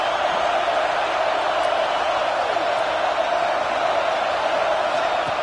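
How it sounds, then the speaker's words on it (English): A football stadium crowd at a Notre Dame versus Clemson game roars in a steady, dense wash of cheering that holds at an even level without a break. "It's early, but this crowd is fired up."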